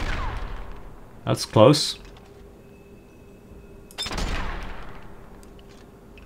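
Sniper rifle shots with ballistic ammo in Sniper Elite 4: two sharp, loud cracks about three seconds apart, each with a short ringing tail, against quiet ambience, with someone speaking briefly in between.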